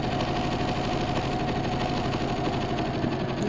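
A sewing machine runs steadily in zigzag stitch while a crazy patch fabric basket is sewn, giving a close, continuous mechanical whirr with a rapid even needle rhythm and no pauses.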